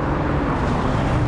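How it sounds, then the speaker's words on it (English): Race car engines in the video game Toca Race Driver 2 drone steadily as a pack, a dense continuous roar with no pauses, loud and close throughout. "these cars sound bad in the pack. They sound awesome."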